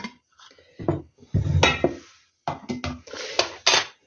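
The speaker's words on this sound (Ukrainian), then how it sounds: "таку повну-повну вверх накриваю кришкою" A lid is set onto a glass jar filled to the brim with homemade tomato juice, giving a few clinks and knocks of glass and metal between short quiet gaps.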